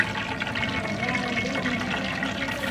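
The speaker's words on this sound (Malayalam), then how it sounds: "പാത്രത്തിലോട്ട് എണ്ണ ഒഴിക്കാം" A steady pour of oil into a pot runs for several seconds, a close, continuous gurgling stream without any speech.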